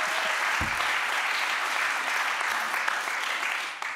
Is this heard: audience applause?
yes